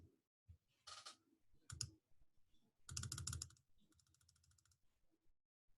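Keys clicking on an Apple computer keyboard in short bursts of rapid typing separated by pauses, close and fairly quiet, with no voices.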